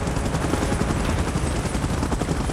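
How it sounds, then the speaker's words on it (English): A helicopter in the PUBG video game gives a loud, steady, dense rotor roar that fills the clip without a break, with no speech. "Chopper in position."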